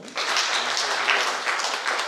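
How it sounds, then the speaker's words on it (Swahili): A church congregation at a Sunday Kikuyu service claps for its lay leaders, dense sustained applause from many hands filling the room throughout. "Tuwapigie makofi"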